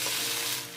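Garlic, onions and spring onions sauté in hot oil, a steady broadband sizzle that holds close and loud, then eases slightly at the end.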